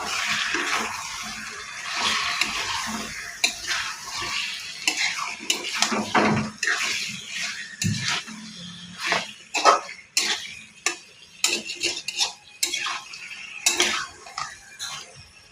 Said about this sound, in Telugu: ఇప్పుడు చికెన్ ముక్కలు చికెన్ ముక్కలు వేసుకోవాలి ఇవి బాగా కలుపుకోవాలి